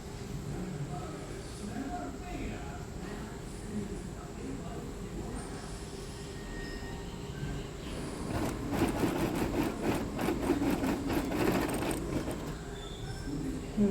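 A sewing machine stitches cross pieces onto a frock, its fast rhythmic whirring rising for a few seconds out of a low, steady room hum.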